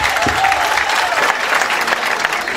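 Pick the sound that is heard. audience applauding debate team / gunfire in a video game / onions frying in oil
audience applauding debate team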